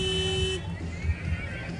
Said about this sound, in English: Here's Corey honking his horn at all of the delighted runners in the Cherry Blossom 10-miler.